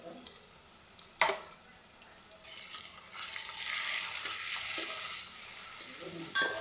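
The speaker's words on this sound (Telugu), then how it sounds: "అల్లం పేస్ట్ వేస్తున్నాను" Ginger paste hits hot oil in a pan while bitter gourd curry is being made. After a sharp clink it breaks into a bright, steady sizzle that carries on to the end, with a faint voice early on.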